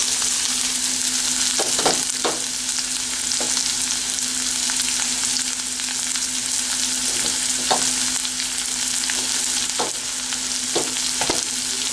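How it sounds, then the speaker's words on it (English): Finely chopped onions fry steadily in a pan for an okra curry, a continuous broadband sizzle with a faint steady hum and occasional scrapes of a spoon stirring through them. "Then I'm going to add finely chopped onions"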